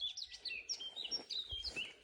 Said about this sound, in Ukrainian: Слухайте, як співають пташки